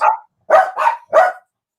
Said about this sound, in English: you know which one's the one that started barking first?